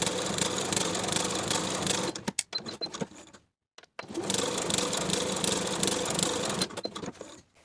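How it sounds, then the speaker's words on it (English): Domestic sewing machine running gathering stitches along a blouse sleeve, a steady close whir for about two seconds, a short stuttering pause, then another long continuous run that tails off near the end. "We'll be sewing gathering stitches from one notch to the other, first with a 1/4 inch seam allowance"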